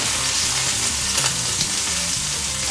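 Steak sears in melted butter with crushed garlic, rosemary and thyme leaves, giving a loud, steady, dense sizzle that runs unbroken throughout with no voices.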